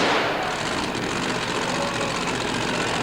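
A loud, roaring supercharged, fuel-injected, methanol-burning Chevy mud racing engine runs continuously at high revs, a dense, rumbling blare with no pauses.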